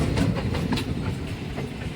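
A locomotive engine passes on the railway near Chennai, heard close by as a heavy rumble with rhythmic clickety-clack of wheels over rail joints. It stays fairly loud throughout, with no talk.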